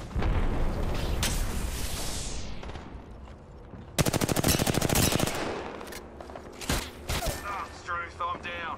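Rapid automatic gunfire and bursts of shots in an Apex Legends battle royale match, loud and dense with a sharp fusillade midway, mixed with game effects and brief voice lines.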